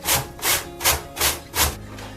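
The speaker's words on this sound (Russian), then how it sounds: "Морковь для подливки натираю на мелкой терке." A carrot is rubbed against a fine grater, making five rhythmic rasping strokes, close and even, each a short scraping burst with brief pauses between.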